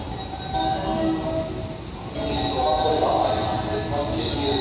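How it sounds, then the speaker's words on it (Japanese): A Special Rapid Service train rumbles in alongside platform 2 at Kobe Station, Japan, with steady mechanical noise and a faint high whine, while Japanese public-address announcements play over it. "2番乗り場に電車が参ります。"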